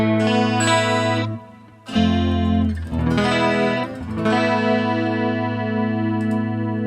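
Clean electric guitar chords played through a Neural DSP Quad Cortex ring out with delay and reverb, each strum trailing into long echoing repeats and a shimmering wash that fades slowly.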